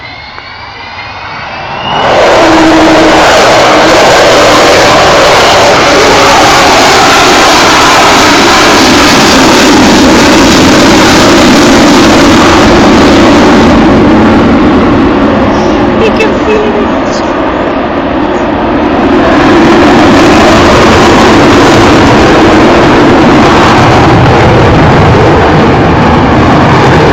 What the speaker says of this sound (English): the famous Vulcan howl, that extraordinary noise that's unique to this aeroplane